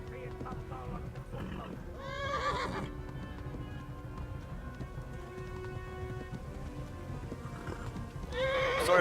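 A horse in Kingdom Come: Deliverance gallops hard with rhythmic clip-clop hooves, whinnying and neighing loudly near the start and again at the end, with rain falling in the background.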